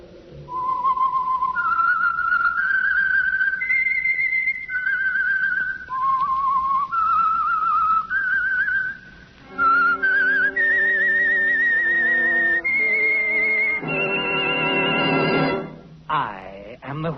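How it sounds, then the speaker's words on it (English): A human whistler carries a slow, eerie melodic theme tune for an old-time radio mystery program, with steady sustained notes that climb and fall, then a short instrumental passage follows. "That whistle is your signal for the Signal Oil Program"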